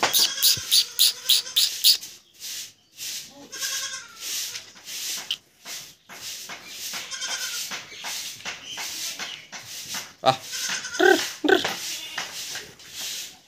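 Young goat kids on a farm at night bleat again and again in short, uneven bursts, some close and loud, others fainter, with a few faint voices in between.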